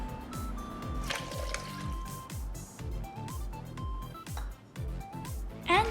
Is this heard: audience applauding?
no